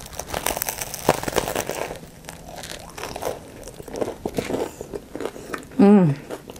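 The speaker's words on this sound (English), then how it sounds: "The bread is really crunchy, yet it's soft on the inside" Crunchy Vietnamese banh mi bread, soft inside and generously filled, is bitten and chewed up close, with crackly crunches and a wrapper crinkling amid faint mouth sounds.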